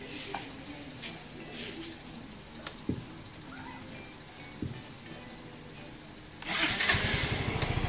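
A motorcycle with a four-year-old stock battery starts with one press: quiet ticking and a few clicks, then the engine catches and settles into a loud, steady rumble at the end.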